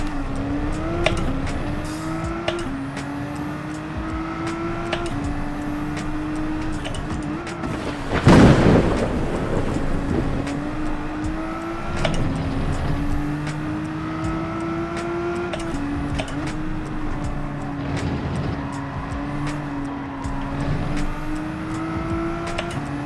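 Race car engine in the Gran Turismo video game, a sustained revving drone that climbs and shifts through gears with a brief burst of tire noise or impact partway through.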